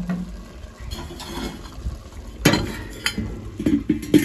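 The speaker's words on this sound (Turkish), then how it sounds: "Ciğerle hepsini beraber kavuruvereceğim." Liver with fat and small bones is sautéed in a pan, giving a continuous close crackle broken by several sharp scraping and clattering hits of a utensil against the pan.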